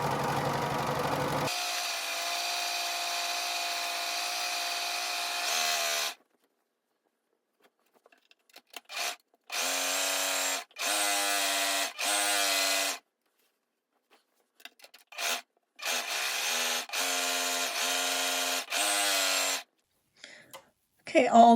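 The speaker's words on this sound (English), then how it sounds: "all four sides are now serged" A serger overlocks the fabric edges of a sewn tunic in several whirring bursts of machine stitching, separated by quiet pauses.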